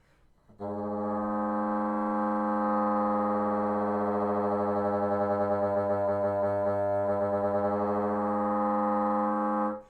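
A sustained reedy saxophone multiphonic chord of two G-based tones, steady and fairly loud, with a slow wavering beat pulsing through it for several seconds.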